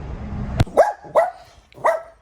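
A dog barks three times close by, sharp separate woofs with short pauses between them.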